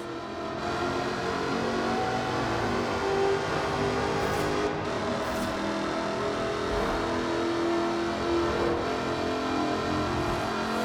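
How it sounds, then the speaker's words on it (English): A supercharged 5-litre V8 sports car with an aluminium body, in the Forza Horizon 4 racing game, gives a loud, sustained engine drone that holds steady for about ten seconds with no voices. "Powered by a 5-litre V8 supercharged engine, with a fully aluminium body, it's blisteringly fast"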